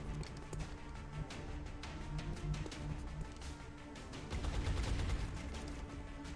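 Sustained gunfire fills a battle in XCOM Long War, with dense overlapping shots and bursts crackling continuously, growing heavier toward the end, no voices.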